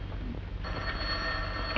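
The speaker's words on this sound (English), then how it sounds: "Answer that phone." An old-fashioned telephone bell ringing in a classic film noir scene, a brief, loud, continuous electric ring heard alone with no voices.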